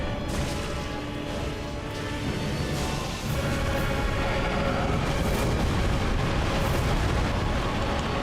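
A loud, dense explosion blast in Dark Souls 3 fills the whole stretch with rumbling, crackling debris and sustained roaring noise, with a brief dip near the middle before the roar resumes.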